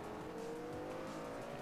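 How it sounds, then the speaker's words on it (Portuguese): Audi R8 engine roaring steadily in the Forza Motorsport 3 racing game on Xbox 360, a loud continuous drone with a faint hint of tire squeal throughout. "Aí temos o Ronco do Audi 8."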